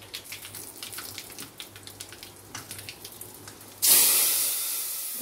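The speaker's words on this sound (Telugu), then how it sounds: "పూర్తిగా కుక్ అయిన పప్పులో మనము ఇప్పుడు తాలింపు వేసుకోవాలి" After a few soft clicks and rattles, hot tempering of onions, curry leaves and turmeric hits cooked tomato dal with a sudden loud sizzling hiss that slowly fades.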